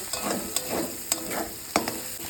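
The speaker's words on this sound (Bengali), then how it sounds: "এটা একটু ঝুড়ো ঝুড়ো করে ভেজে নেব" Egg tarka masala fries in a pan with sugar added, a soft continuous sizzle broken by several scraping stirs of a spatula, with sharp clicks against the pan at regular intervals.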